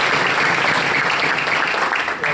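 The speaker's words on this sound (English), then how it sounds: "That's worth a round of applause." Round of applause at a school board of education meeting welcoming a newly named elementary school principal, dense steady clapping from the room filling the whole moment and tapering slightly at the end.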